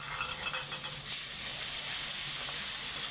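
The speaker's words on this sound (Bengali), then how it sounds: "এখানে আমি রসুন বাটাটা আগে দিয়ে দিচ্ছি।" Garlic paste frying in hot oil at the start of a home-style chicken curry gives a steady, close sizzle, with a few faint clinks of stirring and no speech.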